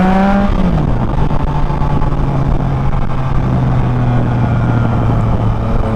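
A Triumph Trident 660 motorcycle engine revs under the throttle, rising briefly and then settling into a loud, steady drone close by.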